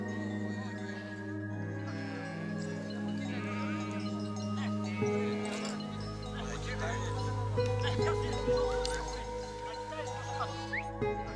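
Sheep bleating repeatedly in a herding region of Northern Macedonia, several calls layered over a low steady background hum, with birds and other farm animals faintly mixed in.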